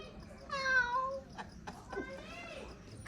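A person imitates a cat, giving two or three close, high, wavering meows with short pauses between them. A voice is also present.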